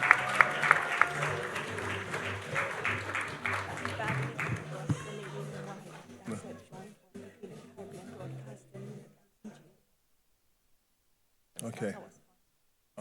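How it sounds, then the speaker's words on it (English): An awards-ceremony audience applauds its winners, dense clapping loud at first then thinning and fading out, with voices mixed in, followed by silence and a brief final burst near the end. "keep a round of applause going for all of our winners"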